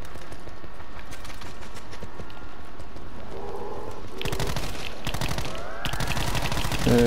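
Rapid automatic gunfire in the Black Ops 4 video game (Alpha Omega), dense bursts of shots that grow heavier and louder toward the end, mixed with mechanical clatter and game sound effects.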